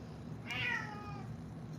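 A single clear cat meow, rising and then falling, sounds close by in a quiet room with a low steady background hum.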